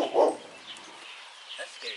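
A dog in a yard gives a short close bark and then a low growl, with soft whimpering and quieter yips trailing after it.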